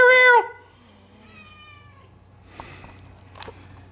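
Slim Jim, a skinny black cat with a big head and long neck, lets out one loud, close meow, then a softer drawn-out second call, followed by faint rustling.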